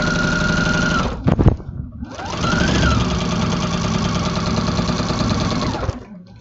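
Sewing machine quilting fabric with a walking foot, close up: a fast, steady mechanical whirr of stitching that stops briefly, restarts with a rising motor tone, then runs evenly before halting.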